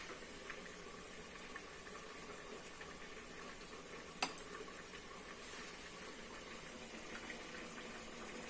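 Laddu peethi dumplings fry in hot oil at a Lahore street food stall, giving a steady, even sizzling hiss throughout with one brief sharp click near the middle.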